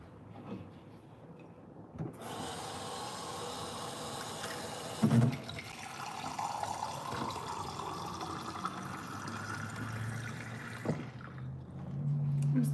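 Tap water runs into a small German mustard glass in a home kitchen, a steady close rush with a rising gurgling tone as the glass fills, ending with a couple of clunks.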